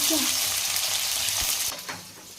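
Onions and green chillies sizzle loudly in hot oil, a steady crackling fry throughout that eases slightly toward the end, with a couple of brief stirring knocks.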